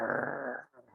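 A person's voice mimics a dog's low warning growl, a single sustained rumble of about two-thirds of a second that breaks off into a softer, fading trailing growl.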